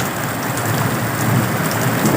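Heavy rain pours in a dense, steady roar, loud and close, with the broad rumble of a thunderstorm underneath and no voices.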